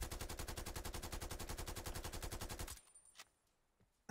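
Krig 6 assault rifle in Call of Duty Cold War fires a sustained fully automatic burst of rapid, evenly spaced loud shots for nearly three seconds, then stops abruptly, leaving a few faint clicks and a quiet tail.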